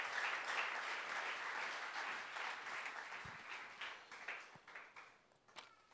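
Church congregation at a worship service applauding and cheering for the king, a dense wash of clapping and voices that stays loud, then thins into scattered claps toward the end.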